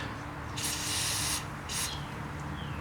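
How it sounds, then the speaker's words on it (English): Penetrant sprayed onto the radiator bolts of a 2003 Lexus GX470, heard as two close hissing spray bursts, a long one and then a short one, over a low background hum. "I am spraying them down"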